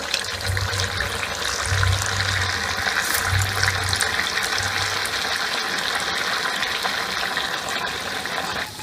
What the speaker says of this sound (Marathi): आता हे वडे आपल्याला तळून घ्यायचे